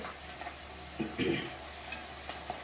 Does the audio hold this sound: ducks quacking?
no